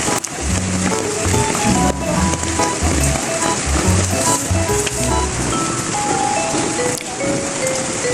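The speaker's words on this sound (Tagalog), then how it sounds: "malakas ang ulan sa labas" Heavy rain pours steadily onto a surface, a loud, dense hiss and patter that continues without letup, with some faint tonal sounds underneath.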